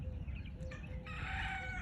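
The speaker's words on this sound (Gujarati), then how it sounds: "કુકડા બહુ બધા છે" Roosters crow at a distance over steady outdoor background noise. Faint, drawn-out calls rise in pitch and overlap.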